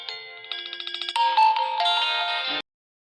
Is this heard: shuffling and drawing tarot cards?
no